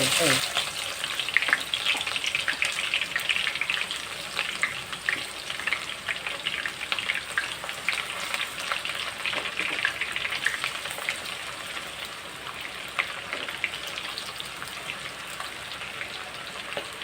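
Chopped onions fry in hot oil in a pan for a beef curry with chui jhal, a dense, continuous crackling sizzle close by, steady throughout with occasional stirring scrapes, briefly under quiet talk.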